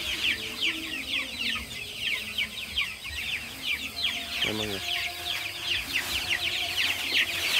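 Chickens in a brooding pen cluck and chatter steadily in a dense flock close by, while a person speaks briefly over the birds.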